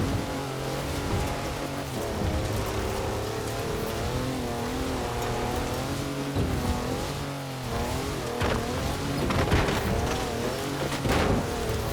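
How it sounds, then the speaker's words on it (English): A four-wheel drive car on mud tyres drifts completely sideways in Forza Horizon 4, its engine droning loud and steady with rising and falling pitch, gritty tyre and surface noise throughout, alone without talk. "That's a four-wheel drive car on mud tyres, completely sideways."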